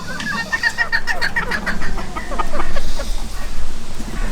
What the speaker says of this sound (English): And that's the rooster from the rose comb bantam line.